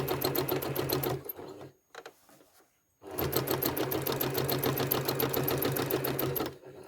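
Sewing machine stitching quilting lines up a side seam of a practice quilt piece, a fast, even mechanical rattle running close and loud, stopping for about two seconds of near silence with light handling noise, then resuming at the same steady pace.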